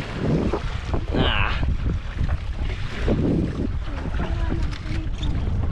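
Wind buffets the microphone on a boat heading out to sea over moderate waves, a loud, gusting rush with water sounds beneath and a brief voice.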